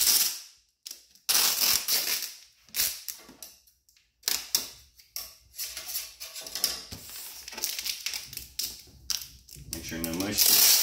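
Packing tape being pulled and pressed down on a comic shipping box: bursts of loud ripping and tearing broken by short pauses, close up, with sharp taps and handling noises in between.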